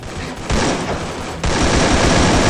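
Rapid automatic gunfire in a ranked shooter video game, dense bursts of loud continuous fire that swell louder midway and keep rattling, with no speech over it.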